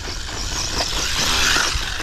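A ZD Racing MT16 3S brushless RC car drives through sand, its electric motor giving a continuous high whine with gritty rolling noise, steady and fairly loud throughout.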